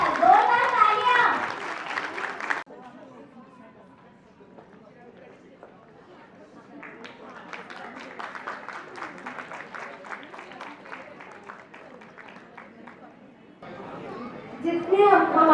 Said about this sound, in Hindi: बहुत बढ़िया, जोरदार तालियां।